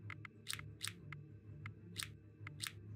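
Crisp, sharp snips of wires being cut on a bomb module in Keep Talking and Nobody Explodes, about ten quick clean clicks, some in close pairs, over a faint low hum.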